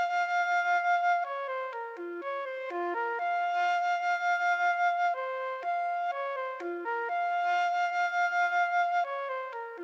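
Passion flute sample instrument from a Kontakt library playing a MIDI top-line melody, a clean breathy solo flute line of sustained and stepping notes, soft and alone with no backing.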